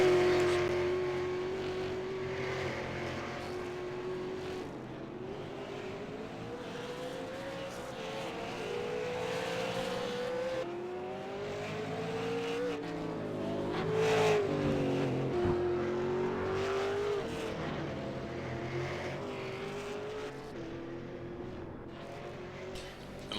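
Super late model race cars circle a track in a close pack, engines droning and rising and falling in pitch as they rev and pass, a continuous loud roar with no talk.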